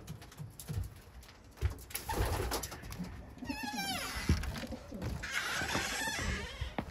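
Pigeons coo in a bird loft: soft, rolling calls repeat close by, with rustling and shuffling around them.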